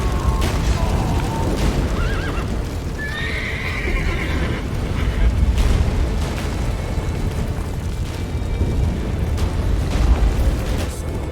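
A horse whinnies loudly in the video game The Witcher 3 over rumbling, booming action noise and hoof clatter, with the commotion continuing steadily afterward.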